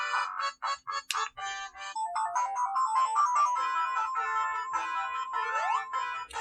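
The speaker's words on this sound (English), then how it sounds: "the Sega intro itself is very loud" A bright, tinny Sega startup jingle plays loudly on a handheld game console, opening with a few punchy stabs followed by a short melodic electronic flourish.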